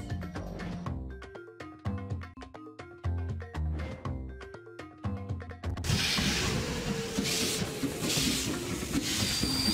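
Video game music plays for several seconds, then gives way to a loud, steady rumbling train with hiss and rolling rail noise that continues to the end.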